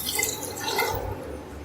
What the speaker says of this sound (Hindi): 1 केजी मैंने राइस लिए हैं तो 4 गिलास इसमें पानी डालूंगी